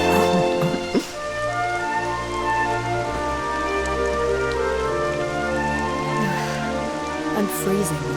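Rain falling in Dragon Quest XI, a soft continuous patter beneath sustained music tones, with spoken dialogue over it.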